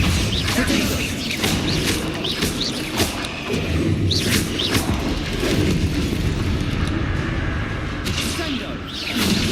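Bombarda spell explosions in the Hogwarts Legacy video game, a series of sharp booms and whooshing bursts going off repeatedly over a busy battle soundscape, with a person talking over them.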